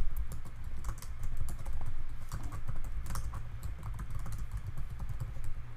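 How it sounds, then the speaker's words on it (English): Keywords are typed on a computer keyboard in a quick, uneven stream of close, crisp key clicks over a low background hum. "I'll start to type those in"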